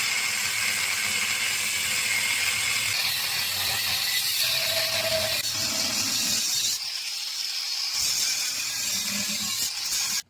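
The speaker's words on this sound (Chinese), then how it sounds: "沿着焊接线给它嘎开就可以了" A refrigerator compressor's steel shell is cut open along its weld seam, giving a continuous close grinding whir that shifts in pitch, with a brief harsh burst partway through before it stops abruptly.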